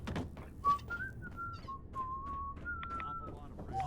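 In Fallout 4's Far Harbor, someone whistles a wavering melodic tune close by at moderate loudness, over low background game ambience with soft thuds.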